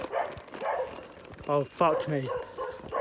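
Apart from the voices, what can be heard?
dogs barking in the dark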